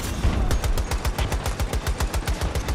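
Sustained automatic gunfire from a weapon in the shooter game Battlefield 2042, rapid evenly spaced shots at roughly ten per second, loud and close, with no talking.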